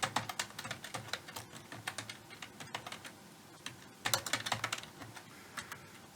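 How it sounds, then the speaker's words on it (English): Fast typing on a computer keyboard while entering network configuration commands, with rapid clusters of clicky keystrokes in bursts and brief pauses, close and clear, no talking. "I used to be a really fast typist, but my skills have been flagging lately."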